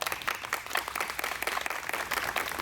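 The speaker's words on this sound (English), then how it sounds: "Please join me in a round of applause." A crowd at a memorial drive co-naming ceremony gives a round of applause for servicemen and women, with dense, fairly faint clapping that carries evenly and without pause.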